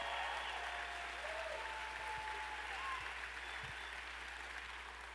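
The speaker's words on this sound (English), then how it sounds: "how about a round of applause for Tulsi?" Sustained applause from an audience at a political rally in Madison, Wisconsin, a dense steady clatter of clapping hands with crowd noise that holds for the whole stretch and barely fades.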